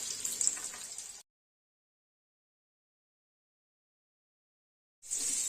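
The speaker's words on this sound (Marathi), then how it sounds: "असेच मी आता सगळे बांगडे तेलात सोडणार आहे" Flour-coated bangda mackerel frying in hot oil: a close, hissing sizzle for about a second, then a long stretch of silence, and the sizzle returns at the very end.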